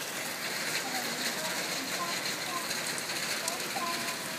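Steady rain driven by some wind falls in Harrison, a dense, even hiss of drops filling the whole stretch, with a voice faintly present underneath.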